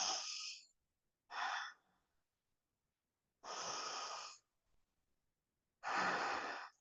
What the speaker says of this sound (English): take 5 breaths in and out through the nose